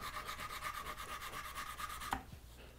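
A knife blade is rubbed back and forth on a sharpening stone with a little fluid, a quick regular rasping rhythm of about a dozen strokes that stops abruptly with a small clack, close and quiet.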